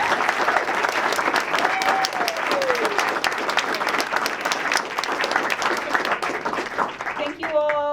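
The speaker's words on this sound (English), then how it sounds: "give him a round of applause" A panel discussion audience gives a round of applause, with sustained, thick clapping from many hands that stays level throughout. A brief voice or whistle-like tone rises near the end.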